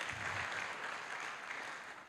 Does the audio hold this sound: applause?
yes